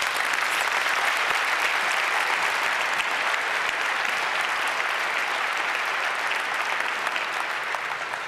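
A conference audience at the 29C3 hacker congress breaks into sustained applause after a talk, a thick, uniform wash of many hands clapping at steady volume throughout.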